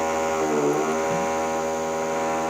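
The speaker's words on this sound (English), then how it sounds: "they're doing construction right outside my door" Construction work outside a door sounds as a steady, dense mechanical drone with a buzzing, engine-like hum that persists without break throughout.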